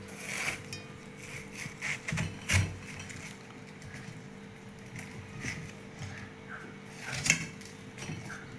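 A knife cuts a watermelon into small pieces, with several soft chopping knocks against a board near the start and another around the seventh second, then quieter handling in between.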